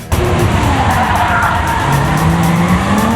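Hearse cars race at Gateway Racetrack during a Coffin Carriers Club gathering, loud engines roaring close by with tires squealing and a rising, drawn-out whine as the cars accelerate.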